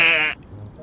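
A sheep gives a single loud, short bleat at the start, then the sound drops to near quiet with only faint low murmur.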